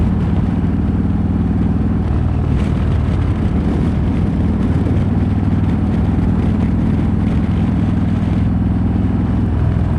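Harley-Davidson motorcycle exhaust on an evening ride, a steady deep rumble with throbbing low pulses that holds loud and continuous throughout, no talking.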